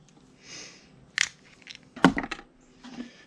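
Tin snips cutting during a greenhouse cover job, heard as a few quiet, sharp crunching snips and cracks at irregular intervals, close by and without talk.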